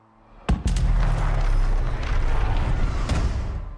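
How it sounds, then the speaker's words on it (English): A loud, close explosion bursts on a video game title screen as the player hits start, a sharp blast followed by a rumbling, crackling roar that slowly fades, with a second smaller pop partway through. "The resulting explosion when the player hits start is a startling indicator of what's to come."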